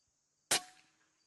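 A single sharp crack from an Umarex Zelos air rifle shot, followed by a brief fading ring as the pellet strikes a flapper target, close and loud against near silence.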